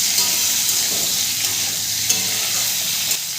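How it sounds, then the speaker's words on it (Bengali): Cut vegetable stalks for a Bengali sukto are stirred as they fry in a pan, a dense close sizzle with soft scraping stirs and occasional clinks, no voices. "হালকা একটু নেড়ে চেড়ে নেব"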